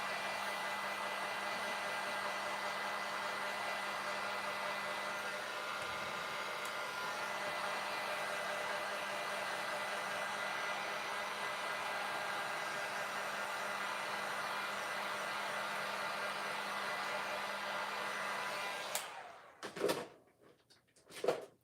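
Hair dryer blowing on wet craft letters, a steady close whirring roar that runs unbroken for most of the stretch, then cuts off near the end with a few clunks and handling knocks.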